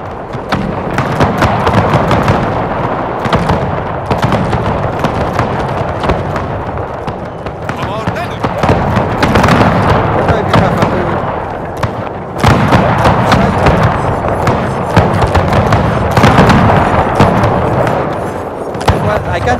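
Musket volley fire in a Napoleon Total War battle, 1833 Carlist War at Huesca: dense, continuous crackling and thudding gunfire with booming reports throughout, loud and close, and a voice talking over it.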